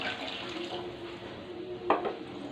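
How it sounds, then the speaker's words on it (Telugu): Water poured into a simmering egg curry makes a soft, steady splashing hiss, fairly faint, with a brief louder splash near the end. "కొప్పుడు నీళ్ళు కూడా పోసుకుందాం."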